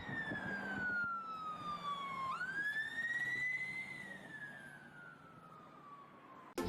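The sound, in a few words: ambulance siren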